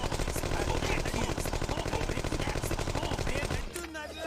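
Rapid automatic gunfire rattles continuously from a vehicle chase in the spy shooter game No One Lives Forever 2, loud and dense with quick repeated bursts, cutting off abruptly near the end.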